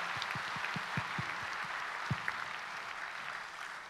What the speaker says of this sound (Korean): 우리 한번 감사의 박수 한번 하시죠.